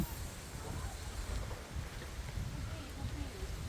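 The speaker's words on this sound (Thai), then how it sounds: "อันนี้คือลม" Strong gusty wind roars steadily through mango trees outdoors, a broad rushing noise with buffeting on the microphone that persists throughout.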